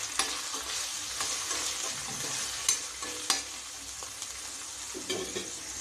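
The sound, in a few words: finely chopped onion frying in a pan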